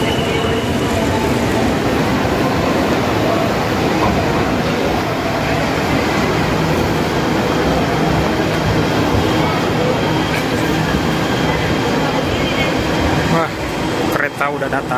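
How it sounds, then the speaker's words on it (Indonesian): Loud, steady rumble and whine of an MRT metro train arriving at Bundaran HI station in Jakarta, broadband noise filling the space, with a few clicks near the end. "Kereta udah datang."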